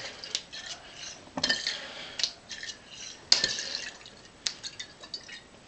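Clinks and light clatter of a glass liquor bottle being flipped, spun and caught in flair bartending, with scattered sharp taps and a faint liquid slosh, close and fairly quiet with no talk.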